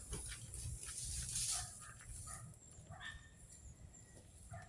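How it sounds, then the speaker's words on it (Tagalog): A dog barks faintly at someone outdoors during an evening reunion gathering, a few quiet, scattered barks over low background murmur. "Kinakahulun ako ng aso."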